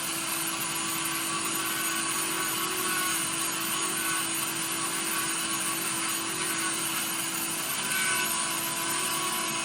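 A rotary carving tool with a pointed typhoon bit grinds steadily into wood while shaping the nose of a carved face, a continuous close whining drone with constant pitch throughout.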